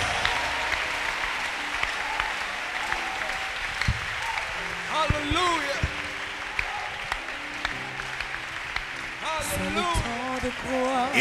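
Congregation at a French-language church service breaks into sustained applause and cheering, a dense crowd roar running throughout with voices shouting and speaking over it.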